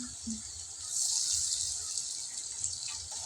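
Cabbage pakoras fry in hot oil, giving a continuous, close sizzling hiss that swells and eases slightly, with faint low clatter underneath.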